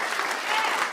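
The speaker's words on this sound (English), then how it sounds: "Give them all a round of applause." A crowd at a blues awards ceremony applauds in a brief, full burst of steady clapping that fills the room without any talk.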